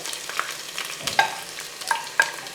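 Chopped ginger and garlic for a Kerala fish curry fry softly in a pan, a faint sizzle broken by a few light clinks of a spatula against the metal.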